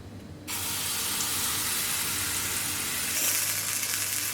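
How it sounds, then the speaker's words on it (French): A sudden loud sizzle starts as vegan crepe batter hits a hot pan, then hisses steadily and swells slightly near the end, with no voices. "ma casserole est chaude. Maintenant, je vais venir verser un petit peu du mélange"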